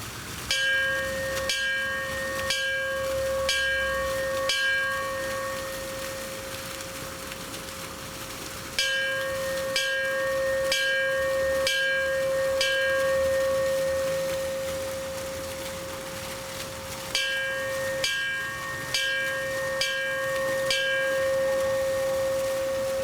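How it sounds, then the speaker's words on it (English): At a September 11 remembrance ceremony, a fire bell tolls in a slow, steady series of clear metallic strikes. Each ring lingers and fades. Groups of strikes are separated by a few seconds of pause, heard on their own without talk. "known as the tolling of the bell and was broadcast all over telegraph fire alarm circuits"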